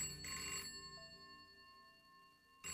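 A telephone rings inside the video game Hello Girl: a bright electronic bell burst, then a long sustained ringing tone that fades, then another burst starts, with no talking.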